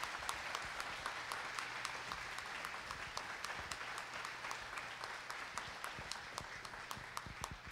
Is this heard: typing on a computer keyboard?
no